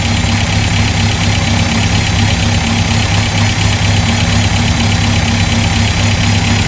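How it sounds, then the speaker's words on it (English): A 1959 Land Rover Series II 109-inch pickup idles low at around 400–500 RPM with the choke and hand throttle off, giving a loud, close, steady rumble with an even, slightly knocking beat and no talk over it. "It sounds like a Land Rover."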